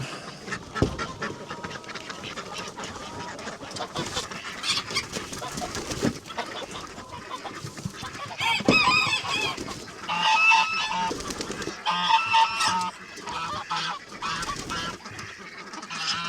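Chickens let out of the coop, including plucked hens, squawk and call in a steady, busy flock chorus, with louder bursts of honking cries rising near the end over a constant rustle.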